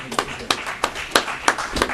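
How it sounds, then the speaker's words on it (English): Scattered applause at a city council meeting, a handful of sharp, separate claps at an uneven pace, fairly close, with talking underneath. "give them a big round of applause"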